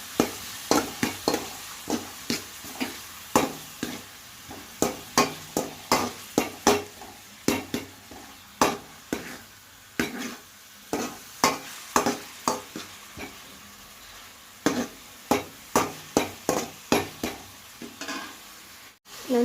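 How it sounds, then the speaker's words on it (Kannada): Onion and tomato frying in a little oil in a pan, a soft sizzle broken by quick, rhythmic scraping and tapping of a spatula against the pan, coming in bursts close by with short pauses. "ಈರುಳ್ಳಿ ಮತ್ತು ಟೊಮಾಟೊ 2 ಹಾಕಿ ಗೈಸ್. ಇದೇನು ಜಾಸ್ತಿ ಫ್ರೈ ಆಗಬೇಕು ಅಂತ ಏನಿಲ್ಲ ಗೈಸ್."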